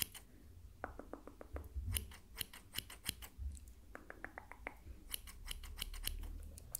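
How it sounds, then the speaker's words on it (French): Scissors trimming the tips of hair during a salon-style haircut: quiet, close, crisp snips in quick bursts of several cuts, separated by brief pauses. "j'attrape tes cheveux et on coupe juste les pointes"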